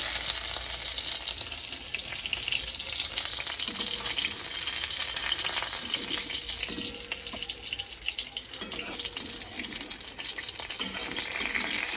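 Continuous loud crackling sizzle of fish frying in hot oil, with faint clinks of utensils now and then.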